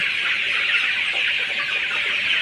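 Tiger breed chickens and chicks at a poultry farm make a dense, continuous chorus of high peeping and chirping that fills the space, loud and close with no talking.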